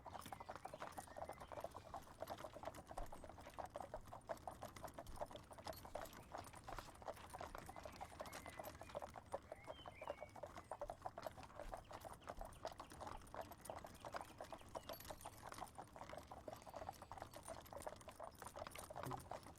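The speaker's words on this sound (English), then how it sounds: "The horse stepping is so soothing." Horse hooves clip-clopping at an even walking pace, a soft continuous stream of hoof steps sitting low and steady throughout, with no voices.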